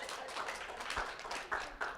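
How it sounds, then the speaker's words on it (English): A small audience at a team improvisation workshop gives a brief round of clapping, faint and sparse with a few distinct hand claps standing out near the end. "give yourselves a round of applause"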